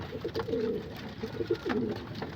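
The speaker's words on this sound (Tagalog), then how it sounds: "mga healthy naman to ibon natin" Racing pigeons coo in short repeated throaty phrases, moderately close and clear against a quiet background, with no talking.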